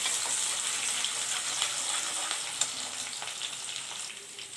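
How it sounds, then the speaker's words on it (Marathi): Finely chopped garlic and ginger sauté in oil for samosa filling, giving a soft, even sizzle with faint stirring ticks and small pops close by, and no talking. "आता याला थोडंसं इथं परतून घेऊया आपण"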